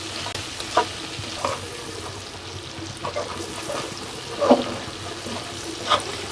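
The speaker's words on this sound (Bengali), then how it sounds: "এই মাছ ভাজা হয়ে গেছে" Small fish fry in a pan with a soft, continuous sizzle, heard up close, and a few louder spatters and utensil knocks break through now and then.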